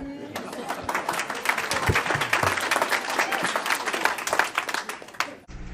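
Applause from the audience at an Arizona state senate hearing, moderate and somewhat thin, with scattered claps and crowd noise over about five seconds before stopping abruptly.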